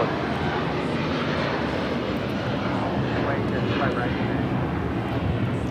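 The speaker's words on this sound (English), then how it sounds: "This takeoff is United Airlines 2113 taking off to Chicago on the 757-300." A United Airlines Boeing 757-300 takes off from runway 25 right at LAX, its engines a loud, steady broadband roar throughout, with faint voices underneath.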